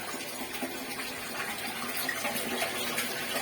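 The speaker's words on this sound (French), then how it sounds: "le tuyau est débordé, donc il crache tout le maximum d'eau qu'il y a pour lui" A drain pipe on a lift pump gushes water out at full flow, making a steady, loud rushing and splashing that continues without a break.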